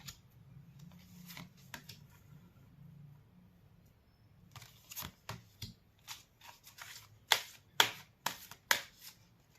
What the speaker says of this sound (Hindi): मैं कार्ड्स निकाल लेती हूँ